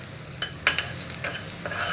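Leftover banana flower petals frying in a pan as a spatula stirs them, quick scraping strokes over a soft continuous sizzle, close by with no voices.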